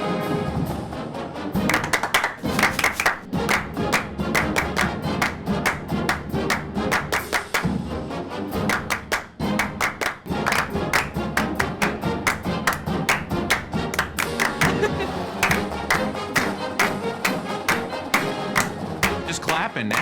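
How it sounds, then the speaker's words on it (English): A group claps together in a steady rhythm, sharp regular hand strikes repeating close and loud, with some voices and thuds mixed in around the beat. "Just clapping now."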